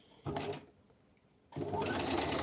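A sewing machine stitches fabric in two quick close bursts separated by a short quiet pause, the second run continuing to the end.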